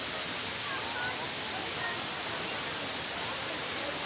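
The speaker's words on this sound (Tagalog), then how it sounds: "Ito yung falls dito." A waterfall on a river pours in a steady, dense broadband rush that fills the whole clip, loud and close, with no break or change in level.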